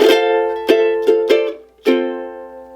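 Ukulele plucking a short response melody up the octave from a song; five bright, clear notes at an uneven rhythm, each ringing and decaying, close and alone.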